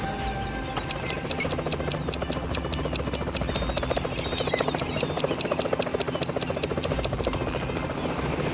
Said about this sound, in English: flying in a helicopter over the pool to check the situation